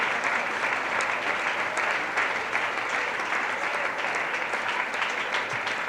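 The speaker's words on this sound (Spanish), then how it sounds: "aplauda fuerte al Señor." A church congregation at a Spanish-language service claps loudly and continuously, a thick, rhythmic wall of hand claps from many people that stays strong for several seconds.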